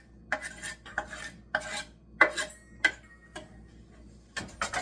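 A knife chops garlic for a dry rub on Cornish hens, with about seven sharp, close taps on a board at uneven intervals over quiet background.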